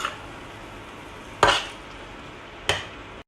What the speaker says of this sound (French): Donc je mélange bien mes légumes.